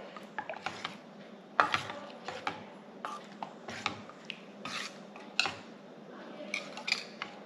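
A spoon stirs a sago and vermicelli mango dessert with cardamom powder in a pot, making irregular clinks and scrapes with quiet gaps between them.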